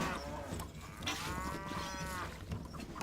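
A cow moos in a long, drawn-out call over a busy background of ambient game noise in Stronghold, with other faint lowing around it.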